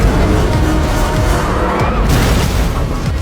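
Loud, continuous movie crash as a 100,000-ton cargo ship rides a tsunami nose first into the Golden Gate Bridge, a dense roaring rumble with heavy impacts and debris clatter throughout, no voices.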